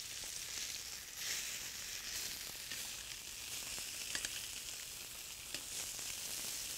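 Crispy snapper fries over really high heat in a hot pan, a loud continuous hiss and crackle with scattered pops, steady throughout with no talking.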